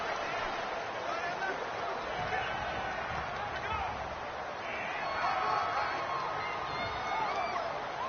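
Steady, muffled stadium crowd roar fills a home NFL game crowd for the NY Giants against the Redskins, a continuous wash of voices swelling slightly near the end with no clear individual calls.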